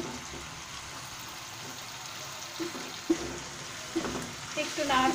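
Onions frying in a pan as part of a chicken roast, a soft sizzle that is quiet at first, then scraping stir strokes and clinks pick up toward the end.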